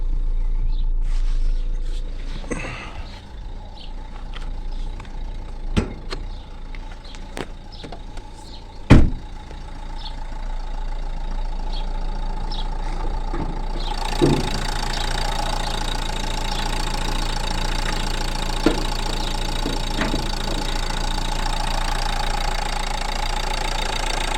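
A car engine idles steadily in the background, running smoothly on its original battery, while a few sharp clicks and a door-like thump sound nearby.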